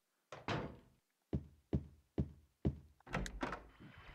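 Door in Silent Hill 3: a series of hollow knocks and thunks, two at first, then four evenly spaced blows and a final cluster of rattling impacts, close and dry against near silence.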